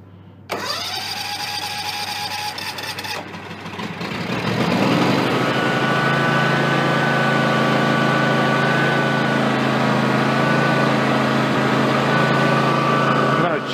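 A John Deere X300 riding mower with a Kawasaki FH series engine, recovering from a no-start fuel fault, cranks briefly, fires and settles into a loud, steady close-up running drone.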